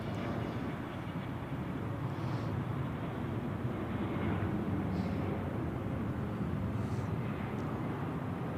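A Finnair airliner taking off at Zurich Airport, heard as a steady broadband jet engine roar at a moderate distance, sustained and even for several seconds with no voices.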